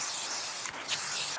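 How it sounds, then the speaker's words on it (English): Aerosol spray paint hissing steadily from a can onto a DIY industrial pipe console table, a continuous close hiss with a brief break partway through, no voices. "Back to spray painting."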